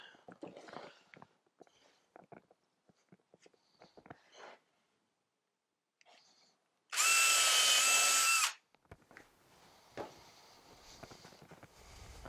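A power drill runs in one loud burst of about a second and a half, boring a screw hole in timber for a budget WBC beehive floor, amid quiet handling clicks and knocks.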